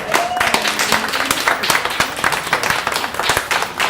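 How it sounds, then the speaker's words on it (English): A crowd applauds steadily, dense clapping from many hands filling the whole stretch with no voices on top. "let's give them all a big round of applause"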